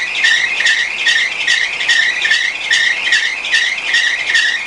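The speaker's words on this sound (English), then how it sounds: "ever since I put the belt on, it's actually started to squeal as well" Drive belt on a car engine squealing loudly in a steady repeating chirp-squeal pattern, a pulsing high-pitched whine cycling several times a second, close and alone with no talk.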